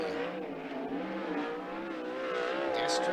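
Skagit Speedway 360 sprint car on a qualifying lap, a loud, steady high-revving engine drone with shifting pitch, close and continuous, with a brief tire squeal near the end.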